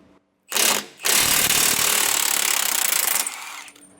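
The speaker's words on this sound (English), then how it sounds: "you're going to want a pretty good impact to do so as well, because taking this off isn't as easy." A powerful impact wrench loosens steering stabilizer nuts on a 2019 Holiday Rambler motorhome, with a short loud burst, a tiny gap, then a sustained rattling hammer of about two seconds, close and loud, that trails off.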